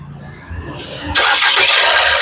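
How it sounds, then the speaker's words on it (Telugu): A 2016 Maruti Suzuki Ertiga ZDI Plus engine cranks briefly and catches on the first try, jumping into a loud, steady roar that holds to the end. "సింగిల్ సెల్ఫ్ లో కార్ స్టార్ట్ అవుతుంది"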